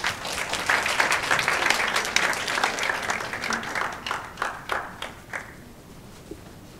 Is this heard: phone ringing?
no